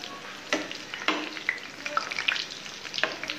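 Chickpeas and iftar snacks frying in a pan, a quiet continuous sizzle with occasional stirring knocks and scrapes of the utensil.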